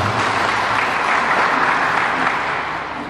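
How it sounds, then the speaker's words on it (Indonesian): Steady audience applause at a regional government development planning meeting, dense and sustained clapping from a sizable indoor crowd that tapers slightly near the end. "Ini tepuk tangan."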